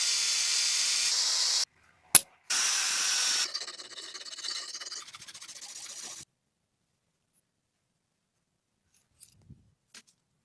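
Smoothing a brass bullet-casing lighter part after grinding and drilling: bursts of harsh, hissy abrasive grinding, then a rougher scraping stretch that stops, leaving silence with a few small clicks.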